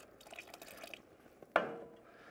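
Tap water runs from a faucet into a pot of thick soup: a faint, brief trickle and a few soft drips, then a sharp splash as the water lands, close by with no talking.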